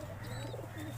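Pigeons, including white and red birds, coo softly close by in a brief, low murmur.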